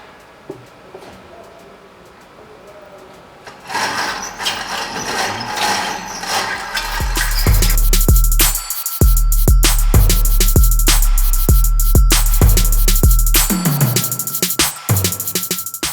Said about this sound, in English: So I just need you to drop the mixer